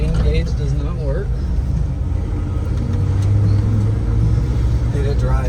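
A 1986 Ford F-150 Bullnose pickup truck is driving, a loud, steady engine and road rumble from inside the cab, with a voice talking over it.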